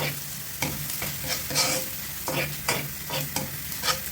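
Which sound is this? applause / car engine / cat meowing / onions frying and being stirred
onions frying and being stirred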